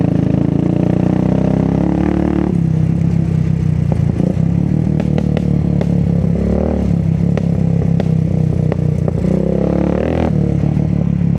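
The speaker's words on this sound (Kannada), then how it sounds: "ನೋಡಿ ನನ್ನ ಬೈಕಲ್ಲಿ ತುಂಬ ಫಟ್ ಫಟ್ ಫಟ್ ಸೌಂಡ್ ಬರ್ತದಲ್ಲ, that's because of the full system exhaust" A Royal Enfield Classic 350 with a full-system custom exhaust, loud and close, its thumping idle rising into revs and falling back, with clatter and a few sharp pops.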